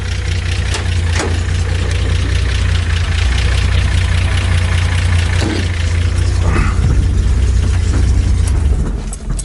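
A 1975 Datsun 280Z engine idles steadily with a deep, even rumble and faint knocking throughout, close and loud, with no speech over it.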